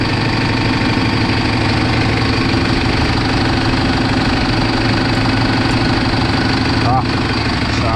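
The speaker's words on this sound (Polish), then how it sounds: "Można to otwierać, jak silnik pracuje." A tractor engine idles close by with its oil filler open, a continuous low rumble with a faint knocking texture, and a voice speaks briefly over it.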